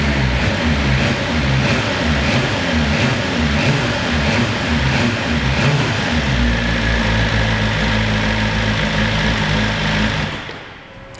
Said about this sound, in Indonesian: Kita geber dikit ya.